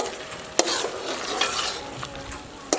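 A spoon stirs pumpkin halwa in a hot pan, giving a close, continuous sizzle and scraping with a few sharp knocks against the metal.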